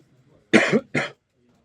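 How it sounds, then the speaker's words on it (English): A single person coughs twice in quick succession, close and sharp, with a short gap between the bursts and quiet around them. "Excuse me for the cough."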